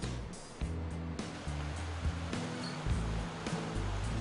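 A ute pushes through the deep Telegraph Track water crossing, its low engine rumble steady under a continuous rush and slosh of water, loud and close, with no talk.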